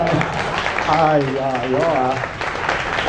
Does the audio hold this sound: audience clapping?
yes